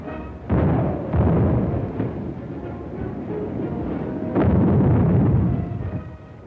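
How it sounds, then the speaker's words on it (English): Battle of San Pietro combat: automatic weapon, mortar and artillery fire, loud heavy booms and bursts recurring irregularly over a constant roar, with no voices. "Both times they had come up against a wall of automatic weapon, mortar, and artillery fire."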